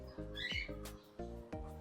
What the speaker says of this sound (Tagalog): Ito rin yung mga ibon natin